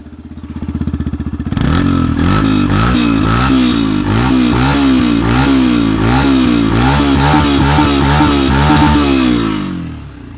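A Yamaha FZ-S V4 motorcycle engine starts and idles, then its exhaust rumbles loudly as it is revved repeatedly in short bursts, close by, fading at the end.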